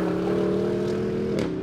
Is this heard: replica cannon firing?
no